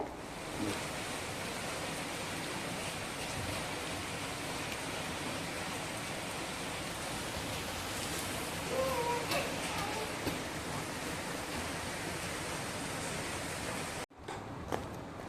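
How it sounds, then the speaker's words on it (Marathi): Monsoon rain falls outdoors as a steady, even wash of noise lasting throughout, with faint voices in the background before the sound cuts off near the end. "पाऊस पडतो आहे आमच्याकडे"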